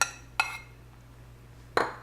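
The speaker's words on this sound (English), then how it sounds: "I'm going to mix up these ingredients" Cookie ingredients being mixed in a bowl for vegan breakfast cookies, three sharp clinks of a utensil against the bowl spaced apart over a quiet low hum.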